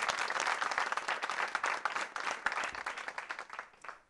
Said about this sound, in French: Et on acclame très fort pour Cédric.